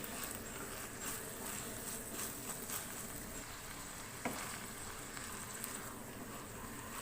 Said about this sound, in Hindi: दही को अच्छे से मिक्स करेंगे।